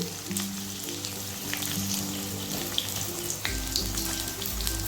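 Raw green banana with papad frying in a pan, a soft continuous sizzle under a faint background tone, with light stirring clicks.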